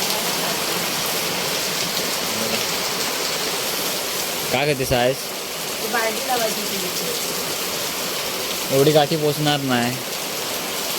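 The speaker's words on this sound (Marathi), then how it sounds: "पत्र्याच्या पत्र्यावरती पाणी पडतं आहे" Heavy stormy rain pours steadily onto metal roof sheets at night in strong wind, a dense continuous roar running through the whole stretch while a couple of voices speak briefly over it.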